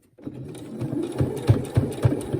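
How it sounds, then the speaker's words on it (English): A sewing machine stitches slowly through several layers of fabric while making a face mask with a filter pocket, giving a close mechanical whir with heavy thumping punches that come about once every fraction of a second. "So if you have to go through 1 stitch at a time, you go through 1 stitch at a time."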